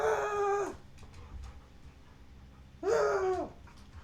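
A puppy lets out two whiny howls with whimpering between them, close and fairly loud against a quiet room.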